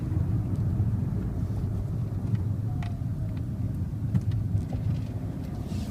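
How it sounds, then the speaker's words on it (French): A Fiat 500 with the 1.3 MultiJet diesel engine runs steadily, a continuous low drone with broadband road or wind noise heard from inside, no voices over it. "Ce moteur n'est pas le plus silencieux de la catégorie."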